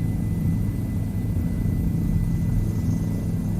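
A helicopter in the video game Microsoft Flight Simulator 2020 drones with a steady, loud low rotor throb and engine hum, continuous and even throughout with no talk.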